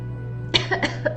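A short burst of several quick coughs, close and fairly soft, over a low steady hum.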